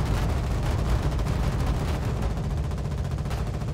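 Sustained machine gun fire from an emplaced gun in the war game Foxhole, a dense continuous rattle of rapid shots with heavy low-end thump, loud and unbroken throughout with no talk.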